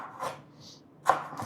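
Knife chopping lemongrass on a cutting board for beef rendang: two or three crisp, separate chops, close and fairly quiet, with a soft scrape between them.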